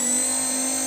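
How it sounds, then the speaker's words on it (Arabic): Hair dryer motor running steadily on its first speed setting, a continuous close whirring hum with a bright high whine, unbroken and without talk. "هذا الموتور راه يمشي بريمير فيتاس"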